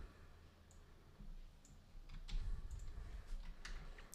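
Computer mouse clicks, a few sharp, faint taps spaced irregularly over low room hum, close by and alone without talk.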